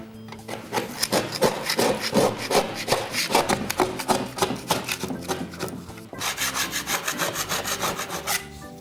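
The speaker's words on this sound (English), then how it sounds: "what we are going to do is remove that peeling paint or that remnant of poorly adhered" A putty knife scrapes peeling, poorly adhered paint off a smooth interior wall in repeated rasping strokes, close and fairly loud, pausing briefly near the end before continuing.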